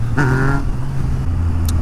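A motorcycle, an MT, rumbles close by with a brief rising rev that settles into a steady, loud idle-like engine drone; no one talks.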